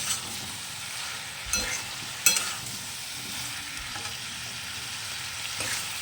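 Spice masala sautéing in oil for a mixed curry of prawns, taro, pumpkin and Malabar spinach: an even, close sizzle runs throughout, broken by a few sharp spoon knocks and scrapes against the pan.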